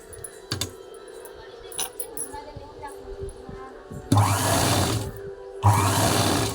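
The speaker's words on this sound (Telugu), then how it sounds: "పాదం ఖర్చు పెట్టుకొని నెక్ చుట్టూ స్టిచ్ చేసుకుంటూ వచ్చేయండి" A sewing machine stitching piping around a blouse neckline, two loud bursts of rapid mechanical running near the end, each lasting about a second or more, preceded by quieter handling clicks and taps.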